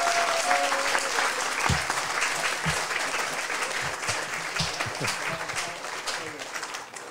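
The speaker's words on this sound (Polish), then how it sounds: "To brawo dla nich, brawo dla was." Sustained applause from the audience at an open prayer meeting, steady clapping that fills the room and then slowly thins toward the end.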